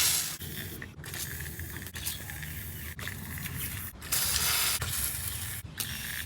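Penetrating lubricant is sprayed onto the suspension parts of a drifting BMW E46 during an angle kit install, heard as a close, steady hiss that runs almost without a break and is broken only by brief pauses.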